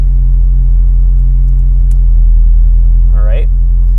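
A high-compression Honda K24 engine with individual throttle bodies in an EP3 runs on a dyno, a loud, steady low idle hum with a brief voice near the end.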